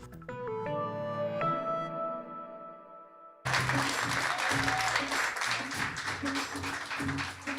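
After a short ringing chime sequence fades out, a live studio audience breaks into sustained, enthusiastic applause for a CBC Vancouver newscast during a live food-bank fundraising special, with dense clapping continuing to the end.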